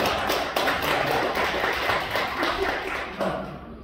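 Dense audience applause at a corporate gathering, a steady close wash of many hands clapping that holds evenly for several seconds.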